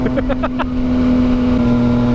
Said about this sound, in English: 3-cylinders always sound so good. And having this M4 exhaust helps too.